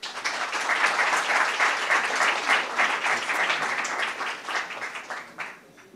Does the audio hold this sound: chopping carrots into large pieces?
no